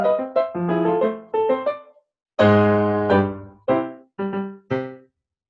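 A German augmented sixth chord and its resolution are played on a piano as short rolled and struck chords, a quick group followed by a fuller sustained chord and three short chords, close and clear with no speech.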